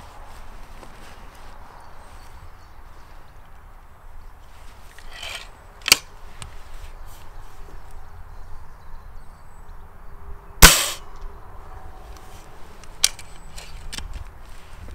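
A Kral Devil Walnut spring air rifle fires with one sharp, loud crack, surrounded by a few softer clicks and handling noises from the action in an otherwise quiet setting.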